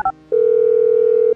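A steady electronic dial tone from a phone in Grand Theft Auto V sounds alone and evenly for about a second, after a brief blip of keypad tones.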